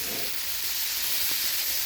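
An egg fries in a small wok with only a little oil for stir-fried noodles. It gives a continuous bright sizzling hiss that stays steady and close, with no talking.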